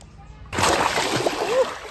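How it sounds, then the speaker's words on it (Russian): Water splashing in a neighbour's outdoor swimming pool starts abruptly with a loud splash, then continues as lively sloshing and splatter nearby while voices talk over it. "Я слышу, водичка плескается."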